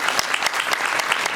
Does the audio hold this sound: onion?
no